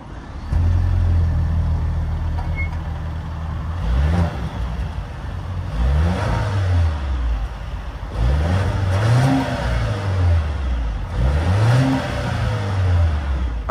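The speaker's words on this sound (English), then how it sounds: "that was, of course, the sound of the 2-liter turbo sold by Volvo for the 2022 XC60 B6 all-wheel drive Inscription" A 2022 Volvo XC60 B6 all-wheel drive Inscription with a 2-liter turbo engine idles steadily and then revs in four rising and falling sweeps, heard from close behind the car with no talk.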